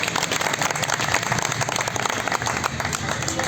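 A large outdoor crowd at a workers' protest rally applauds loudly and steadily, with dense clapping and a few voices mixed in throughout.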